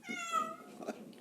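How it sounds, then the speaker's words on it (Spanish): A cat meows in one drawn-out, rising-and-falling cry, close and clear, with faint room noise behind it. "La gata está llorando."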